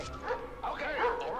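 A dog gives short yips and barks in a scene from the 1978 Superman film, fairly faint beneath a person talking over it.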